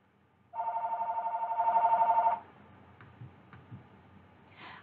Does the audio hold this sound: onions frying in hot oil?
no